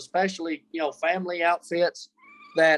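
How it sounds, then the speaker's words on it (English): A pet cat named Turtle meows several times in short, drawn-out cries, close and loud, mixed in with a voice speaking. "sorry about my cat here"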